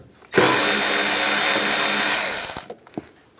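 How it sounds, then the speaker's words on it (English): An 8mm socket loosens a worm clamp on an A/C hose in the engine bay of a 2015-2020 GMC Yukon XL, a loud continuous mechanical whir lasting about two seconds, then a few trailing clicks. "We're going to loosen up this worm clamp right here using an 8mm socket."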